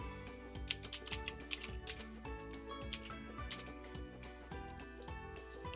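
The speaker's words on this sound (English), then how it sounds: "Type in CCON all lowercase" Typing on a computer keyboard in bursts of quick, light clicks, with a soft tick-like rhythm under steady background music and no voices.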